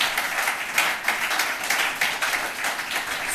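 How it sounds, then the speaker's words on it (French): A church congregation applauds to welcome first-time visitors, a loud, close, steady patter of many hands clapping together with no voices over it. "Applaudissons pour eux."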